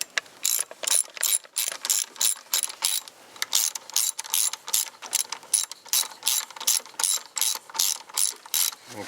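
A socket ratchet tightens a bolt in a series of quick, close, crisp clicking strokes, each burst of pawl ratcheting followed by a short pause, repeated about a dozen times.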